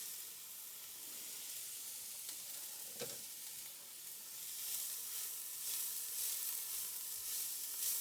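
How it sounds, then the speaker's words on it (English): Onion and celery hitting hot olive oil in a heated pan, a steady bright sizzle with a brief clatter as the vegetables go in, then continuous frying hiss. "the pan looks pretty heated, so I'm going to add in the onion"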